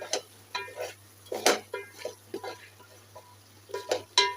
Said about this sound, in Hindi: सब्जियाँ डाल के अच्छी तरह से मिक्स करते हैं